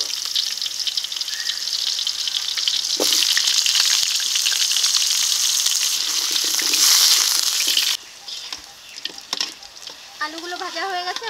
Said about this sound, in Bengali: এই তেলে আলু ভেজে নেব।